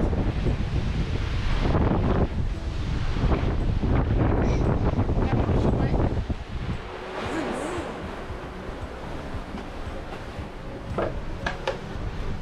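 Wind of about 15 knots buffets the microphone aboard a sailing boat on a flat sea in the Grenadines, heading toward Bequia. It makes a loud, rumbling roar that eases partway through, with soft water and boat sounds beneath.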